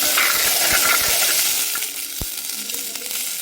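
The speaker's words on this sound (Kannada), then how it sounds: "ಈ ಥರ ಚೆನ್ನಾಗಿ ಎಣ್ಣೆಯಲ್ಲಿ ಫ್ರೈ ಆಗಬೇಕಿದು" Gooseberry pickle frying in oil as it is stirred, a steady close sizzle throughout with a few sharp clinks of the spoon against the pan, easing slightly toward the end.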